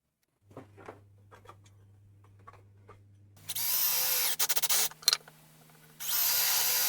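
Power drill boring holes in wood for a hammer storage rack, preceded by quiet workshop clicks and taps, then a loud steady whirring run, a few short bursts, and another sustained drilling pass.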